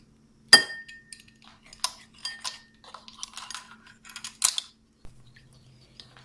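A spoon clinks against a bowl as soy sauce and oyster sauce are mixed together for a chicken dish. Several light, separate taps and scrapes sound in a quiet kitchen, with no talking.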